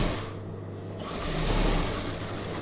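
A sewing machine stitches a star neck chudidhar, running as a steady close mechanical hum that dips briefly near the start and then continues evenly.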